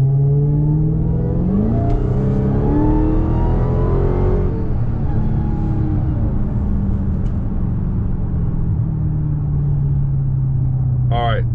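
A car accelerates hard under boost, its engine roaring loud and close as the pitch climbs through a long pull, then settling into a steady drone.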